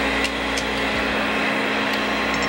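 A drill grinder runs while sharpening a twist drill bit, giving a steady motor hum and whine with faint light ticks, constant and close throughout.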